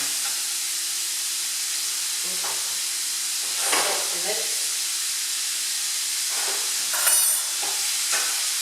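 Mince for spaghetti bolognese browning in a pan, a steady hiss of frying under occasional spoon scrapes and stirring clatter, close by.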